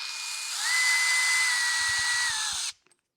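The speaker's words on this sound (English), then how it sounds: "even on setting 1 for the clutch, I think it's going to be too much, but I'll put it down there anyway" Up close, a cordless drill whirs steadily at a low clutch setting as it drives a screw, then cuts off abruptly and leaves a couple of faint clicks.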